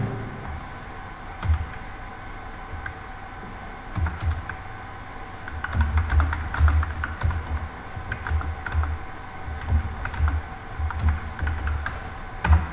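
Keys on a computer keyboard clatter in uneven bursts of quick taps, close and moderately loud, with short pauses between runs.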